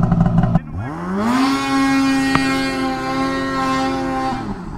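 Polaris and Ski-Doo snowmobiles, including a turbocharged M8000, tree riding in Idaho snow; a loud, close engine revs up and holds a steady high whine for several seconds, then drops, with voices over the start.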